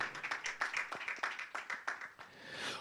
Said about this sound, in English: Please, a round of applause for her again.